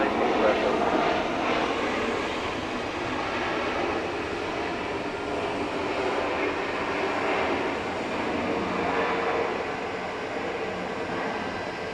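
A Delta airliner landing on runway 8 left at Atlanta airport, a continuous broad jet engine roar, loud and steady throughout, with no distinct breaks.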